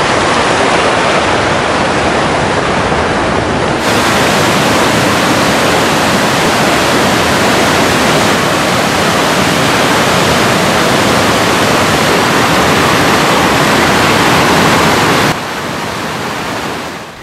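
The Alibek waterfall in the Dombay mountains rushes in a loud, unbroken roar of falling water heard up close, with a sudden drop in level near the end.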